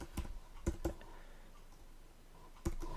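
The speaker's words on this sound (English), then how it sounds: "I'm just going to type in table" Keys on a computer keyboard tap quietly in a few short, uneven bursts of clicks, close by in a quiet room.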